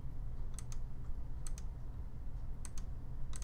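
Crisp clicks of a computer mouse, arriving in quick pairs as double clicks, repeated four times at a steady pace, close and moderately loud over a low room hum.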